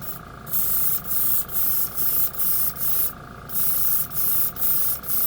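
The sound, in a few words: spray paint gun spraying with air compressor running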